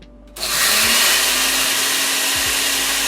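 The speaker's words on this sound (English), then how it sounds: "They're not fully ground up yet, so I'm gonna grind it a little longer." Food grinder blitzing guinea pig treat ingredients: after a brief quiet moment the motor kicks in with a loud, steady, close-up whir that holds without a break to the end.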